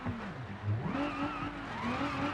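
A car driving off-road in the BeamNG driving game, its engine revving up and down in wavering tones with some tire noise, loud and continuous.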